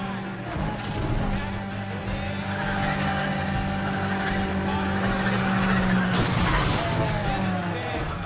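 In the racing game Need for Speed The Run, a car drifts during a police chase. A loud, continuous engine roar carries long tire squeals and skids that build toward the end, with no speech.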